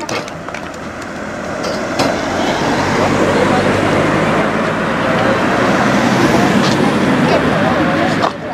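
The first car rolls through a newly opened road in Cuijk, a loud continuous engine and tyre rumble building and holding close by, with crowd voices and a few sharp knocks mixed in.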